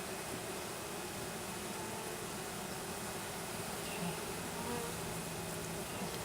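A dense swarm of honeybees buzzes continuously and close during a packaged bee installation, a steady, even drone without breaks.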